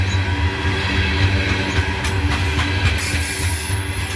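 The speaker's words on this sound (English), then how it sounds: "CSS coal train." An SD70-hauled CSS coal train passing close by, a steady loud rumble of rolling freight cars with rail clatter throughout.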